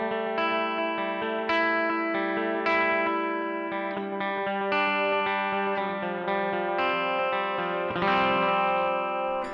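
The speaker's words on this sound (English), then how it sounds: "Yes, that's the analog delay." Electric guitar played through a Keeley Supermod analog delay pedal, sustained chords and notes with repeating echoes and a faint wobble of modulation, steady and moderately quiet with no voices.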